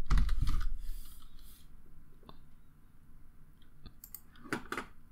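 A few computer keyboard keystrokes while modelling a house in Revit, sparse close clicks in small clusters over a low room background.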